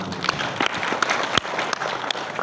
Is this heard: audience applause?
yes